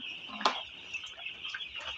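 Young broiler chickens on a farm give a few faint clucks and chirps over a steady high background hum, one louder call near the start.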